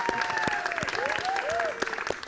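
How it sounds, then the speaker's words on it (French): An audience at a Mauritius television broadcast claps in a steady, dense patter, moderately close, while warbling whistles or tones rise and fall over the applause. "Applaudissements."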